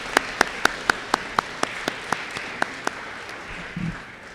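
Applause at the Sunnyslope School eighth grade promotion: a few sharp, evenly spaced claps ring out close by over a soft crowd bed, then stop, followed by a brief low rustle.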